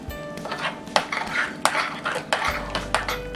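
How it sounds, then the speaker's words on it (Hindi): A spoon stirs mango puree into shrikhand in a bowl, giving repeated close scraping and clinking strokes against the dish in a steady mixing rhythm, with no talking. "पहले हम 2 चम्मच डालेंगे और इसे मिक्स करेंगे।"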